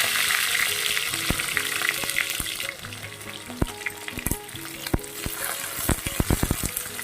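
Four green chillies and a whole large onion fry in hot oil over whole-spice tempering, with a steady close sizzle and sharp clicks and knocks of a stirring spoon against the pan.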